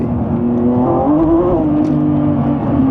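Lamborghini Revuelto pulling from 30 to 60 mph in fourth gear, a loud close engine drone with rising and shifting harmonics under steady acceleration, no talk.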